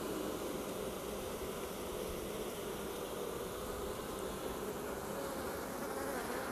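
Honeybees swarming up over the tops of beehive frames, a thick steady buzzing drone from many insects, close and continuous without any voices.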